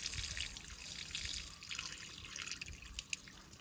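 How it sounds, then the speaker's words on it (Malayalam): Waste water from settled arrowroot starch slurry draining away, a steady close trickle and drip of liquid pouring off with no voices. "വേസ്റ്റ് വെള്ളം അതേ പോകുന്നു."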